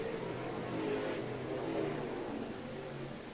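Sportsman race cars in a heat race on a dirt speedway, their engines roaring together in a steady, dense drone that swells slightly as the pack passes, with no talk.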